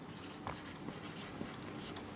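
Pen or chalk scratches out handwritten math notes during a Class 10 lesson, a soft continuous scraping with small taps and strokes at close range, no voice over it.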